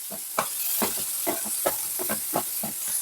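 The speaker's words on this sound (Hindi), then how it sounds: "तो अब हम प्याज को भून लेंगे।" Onions sauté in a pan for chole with a continuous hissing sizzle. A steady run of stirring scrapes and clacks keeps time through it. Nothing is spoken.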